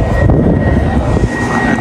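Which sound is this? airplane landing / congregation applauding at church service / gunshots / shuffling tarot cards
airplane landing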